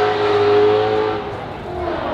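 V8 drift car engine revving in the distance, a sustained mid-level engine roar with a steady pitch that dips and softens partway through, heard without any voices.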